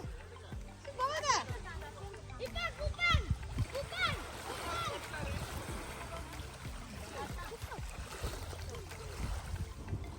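Boys bathe in the water near a village in Johor, Malaysia, with repeated irregular splashes and sloshing close by. Children's voices chatter throughout, all fairly quiet.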